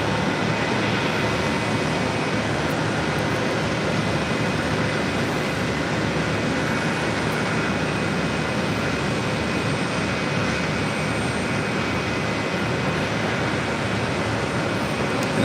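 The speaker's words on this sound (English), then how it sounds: "We'll be heading to Atlanta, Georgia in this A320." JetBlue Airways Airbus A320 jet at JFK airport, a loud, steady engine roar holding constant throughout, close by and without talk.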